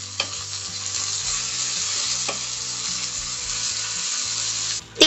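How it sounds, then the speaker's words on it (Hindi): Sliced onions and ginger garlic paste fry over a medium flame with a bright, even sizzle, punctuated by a few quick spatula scrapes and a louder knock at the end, close up and without speech. "बिल्कुल मीडियम फ्लेम पे हम इस प्याज और जिंजर गार्लिक पेस्ट को अच्छे से फ्राई कर लेंगे"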